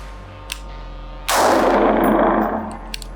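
One rifle shot cracks loudly at an outdoor range, a sudden blast that rolls off over about a second amid faint clicks and a low steady hum.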